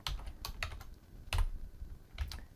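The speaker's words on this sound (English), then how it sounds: "then you type in your examples" Computer keyboard typing as data is entered into a spreadsheet: a few separate clusters of soft keystrokes, close by and fairly quiet, with no talking.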